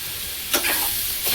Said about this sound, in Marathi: हे चांगलं तिथं व्यवस्थित भाजून घेऊया।